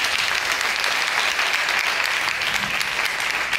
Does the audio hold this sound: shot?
no